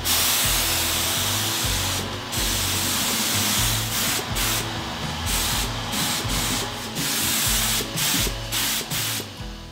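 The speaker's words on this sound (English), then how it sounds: "Now I'm ready to spray one thin coat on the painted surfaces." A spray gun lays a thin coat of lacquer over painted surfaces, a loud sustained hiss broken by brief pauses as the trigger is released, over a low rhythmic compressor-like throb.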